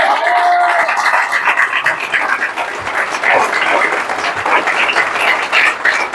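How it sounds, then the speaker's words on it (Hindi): Audience applause at an RCM business gathering in India, a dense, steady wash of many hands clapping that fills the whole stretch at close, loud level with no gaps. "और आप सभी तालियां बजाएंगे माननीय श्री दिनेश मोहन जी के लिए।"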